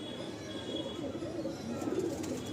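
A male pigeon from a home breeding loft coos in low, soft murmurs, close by and fairly steady against a quiet background.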